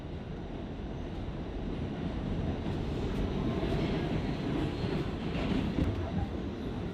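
A subway train rumbles through a New York subway stop, a steady loud roar of wheels and motor with faint squeals, sustained and close throughout.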